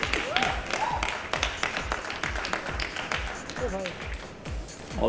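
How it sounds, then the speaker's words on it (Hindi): A studio audience claps and cheers for a dance team on a televised dance competition launch, with dense scattered claps running steadily throughout under a presenter's voice. "गाइस तालियां रुकनी चाहिए फॉर पॉल,"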